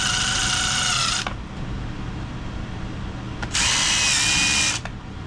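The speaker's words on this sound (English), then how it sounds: "I make a small countersink with a 3/8 bit" A power drill bores a small countersink into wood with a 3/8 bit, running in two loud, steady high-pitched bursts with a quieter pause between them.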